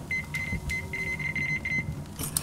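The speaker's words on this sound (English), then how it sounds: "I do love the beeps." A run of short, bright electronic beeps in Metro Exodus repeats in a quick, slightly uneven rhythm against a low background rumble, ending in a higher chirp.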